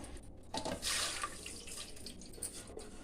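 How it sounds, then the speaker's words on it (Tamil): Water from soaked kudiraivali millet draining through a strainer, faint irregular trickling and dripping with a brief louder splash near the start, no voices. "இந்த மாதிரி நான் இந்த வடியில் வடி கட்டிடுறேன்"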